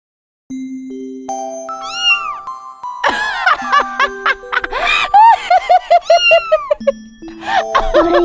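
Animated kittens mew in a rapid run of high, rising and falling cries, overlapping one another and mixed with tinkly chiming tones, loud and close after a quieter opening of sustained musical notes.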